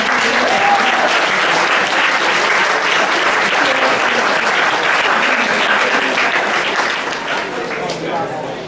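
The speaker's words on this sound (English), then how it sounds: "Can we have another round of applause for the 54 JCRC" Dense, steady applause from a large crowd at an annual general meeting, loud and continuous throughout, easing slightly only at the very end.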